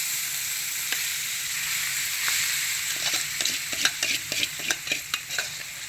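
Sun-dried cucumber dal curry frying with green chillies in a pan, giving a steady sizzle with scraping stirs and clinks that grow busier toward the end.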